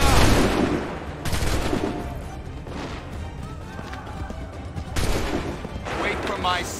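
Musket volleys crack out in a colonial-era battle in Assassin's Creed III, a loud burst of massed gunfire opening the clip and another near the end, with shouted orders and battle noise between.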